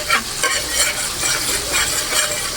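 Oil sizzles and crackles steadily as tilapia fries in a hot pan, a dense bubbling hiss with soft pulsing swells, close and continuous.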